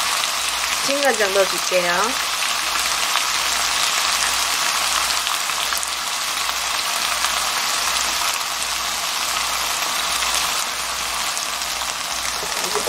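Hijiki seaweed and konjac stir-frying in a pan give a steady, dense sizzle and crackle that runs the whole time, loud and close, with someone speaking briefly over it near the start.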